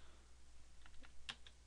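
Typing on a computer keyboard while working in AutoCAD, a few quiet close key taps in quick succession over a faint background hum.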